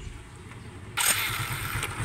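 A Suzuki Smash 150 motorcycle whose engine has been dying while riding and idling unevenly starts after a quiet pause, with a sudden burst of engine noise and then a steady idle at moderate volume.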